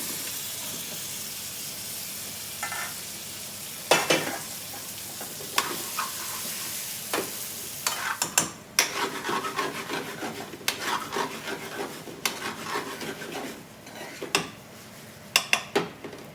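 Baby potatoes being stirred with spices and onions in a pan for Bombay Aloo, producing soft scraping and rubbing strokes with a faint sizzle and a few sharper knocks of the spoon against the pan.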